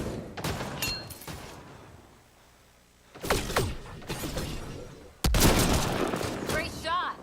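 Assault rifle fire in the sci-fi shooter Mass Effect Andromeda, loud bursts of close shots with ricochets and combat effects, separated by a quieter lull, with game voices talking in between.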